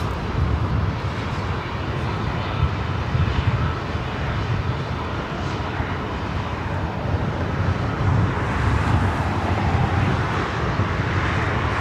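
An A330neo jet airliner taking off from LAX on a flight to Rome, a loud, continuous engine roar with broadband rumble and wind buffeting that holds steady throughout.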